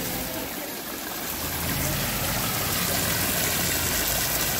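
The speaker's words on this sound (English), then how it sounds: "Love that interaction with these two waterfalls right here." Two waterfalls pour into a newly built pond in a middle school courtyard, making a steady, close wash of splashing water with no speech.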